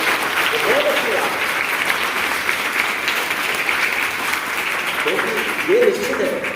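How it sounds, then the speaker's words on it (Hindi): An audience at a school essay and language competition breaks into applause, a dense, sustained wash of clapping from a large crowd lasting several seconds, with a speaker's voice over it. "एक इस बात के लिए जोरदार तालियां आप अपने लिए दें।"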